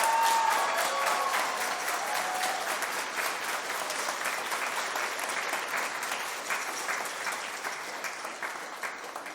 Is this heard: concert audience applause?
yes